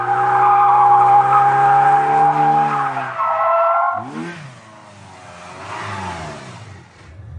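A car drifting at a drift event, with a loud sustained tire squeal and high-revving engine, then the engine note drops and the squeal fades to quieter revving.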